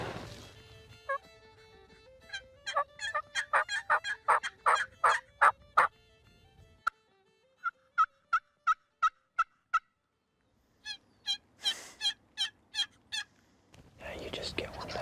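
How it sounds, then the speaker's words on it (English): Wild turkeys gobbling in a Kansas field during mid-morning, repeated rattling bursts in several rapid series, fairly close and clear, with quiet gaps and a louder rough burst near the end. "then they start gobbling again to try to pull them back in"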